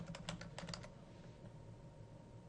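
Quick clattering keystrokes on a computer keyboard as a search keyword is typed, a short burst of about a dozen taps in the first second, then only faint room hiss.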